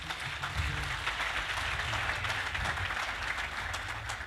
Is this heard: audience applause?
yes